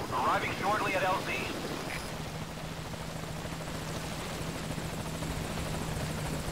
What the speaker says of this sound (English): I think it's a very good effect that they actually have the helicopter fly in.